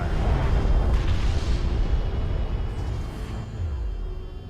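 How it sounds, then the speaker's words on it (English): Hostile railguns fire and explosions rumble in the real-time strategy game Homeworld: Deserts of Kharak, a heavy, sustained low roar of blasts that slowly fades, with no talking. "Hostile railguns opened up."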